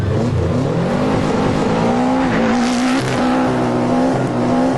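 Subaru race cars on a track accelerate with a loud, continuous engine drone that rises and dips as the revs change, close and steady with no talking.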